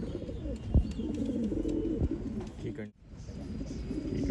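Old line pigeons in Bangalore coo steadily nearby in a low, throaty murmur, with a couple of sharp knocks and light rustling mixed in.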